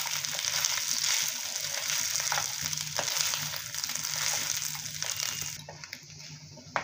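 Spiced potato being stirred into fried egg in a hot pan for an egg-potato samosa roll filling: a steady oil sizzle with scraping and stirring knocks throughout, easing off near the end.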